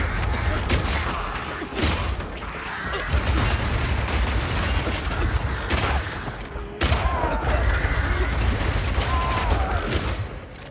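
Rapid Shot crossbow fire in the game Path of Exile 2 rattles out as a rapid, dense stream of mechanical shots and impacts, loud and continuous, with brief breaks and thuds mixed into busy combat noise.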